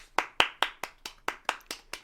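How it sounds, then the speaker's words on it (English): Slow, evenly spaced claps, about nine sharp hand claps in two seconds, close and fairly quiet, from a small group or one person greeting a podcast guest. "Everybody, round of applause for Nate Williams."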